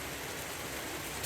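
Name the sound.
rain during a lightning storm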